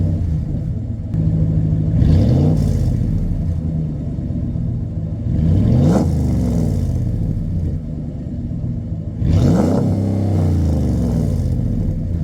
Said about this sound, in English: Hope you can hear that. Okay, here we go. MBRP exhaust.